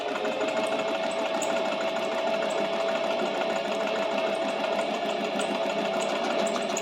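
A sewing machine runs slowly and evenly, stitching through paper during a basic sewing practice. Its motor gives a steady hum and the needle taps at a quick, regular rate, close and alone for about seven seconds.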